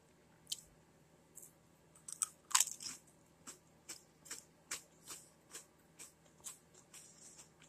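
Crunchy Utz crab seasoning potato chips being eaten up close, a few sharp bites followed by a steady run of about a dozen rhythmic crunching chews, quiet between each.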